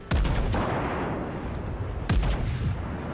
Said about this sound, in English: Someone is shooting at me.